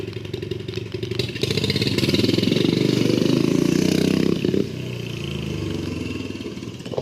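A turbocharged, fuel-injected drift trike engine held at full throttle, a loud, buzzing, steady roar that swells after the first second, holds for about three seconds, then drops back to a rougher, lower running note.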